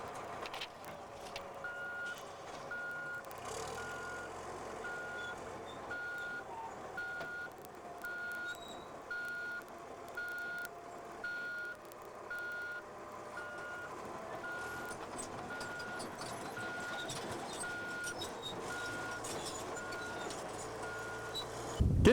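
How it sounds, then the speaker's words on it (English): Reversing alarm beeps repeat in a steady, evenly spaced rhythm over the constant rumble of a bulldozer unloading from a transport truck, with faint mechanical clanks and no talk. "Always remember to stand clear of the transport when the dozer is unloading."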